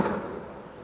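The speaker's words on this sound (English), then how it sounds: "Fireworks." Fireworks burst once at the start in a loud, broad crack, then the noisy rumble trails off and fades over the following second, with no voices.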